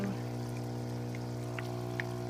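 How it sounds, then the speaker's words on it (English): An aquarium air pump hums steadily in an old fish tank converted into an indoor hydroponic garden, with soft, sparse bubbling and faint water plinks in the nutrient solution. "The bubblers are on and bubbling up into"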